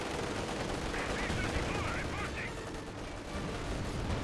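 Gunfire crackles from a Company of Heroes 2 battle, with Guards anti-tank rifles plinking at a Panther tank, dense rattling shots and machine-gun bursts running continuously under a noisy battlefield din.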